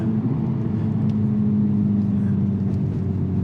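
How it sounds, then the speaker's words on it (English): Steady, loud engine drone from a Honda Type R accelerating through a corner on a track day, heard from inside the car as one continuous low hum with no break. "After I get this acceleration through the corner"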